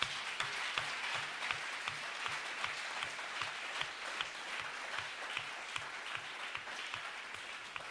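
A church congregation applauds in a steady, even round of clapping, many hands together at moderate distance, continuing without a break and mostly on its own.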